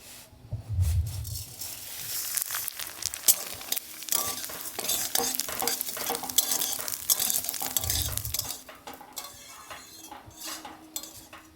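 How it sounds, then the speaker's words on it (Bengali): Long semai vermicelli fry in ghee over a lowered flame, a soft sizzle under repeated stirring scrapes and clatter from the pan, close and fairly busy throughout, with no speech. "চলো এটাকে আমি ধীরে ধীরে ভালো করে লাল করে ভেজে নেবো"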